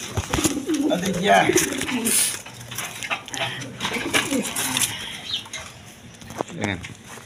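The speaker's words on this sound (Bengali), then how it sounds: "এইখানে আরেক পেয়ার আছে বাঘা সবুজগুলো কবুতর" Pair of green Bagha pigeons cooing in a pigeon market, repeated close coos with some wing flutter, heard under someone talking.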